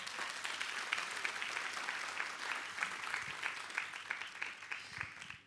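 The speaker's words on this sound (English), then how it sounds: "Can we give Atomy a round of applause?" Audience applause follows a call to honor the Atomy company at a business success seminar, with dense, steady clapping from a large crowd that holds throughout and tapers off at the very end.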